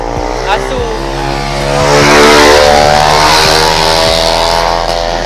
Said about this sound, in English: That bike is so noisy.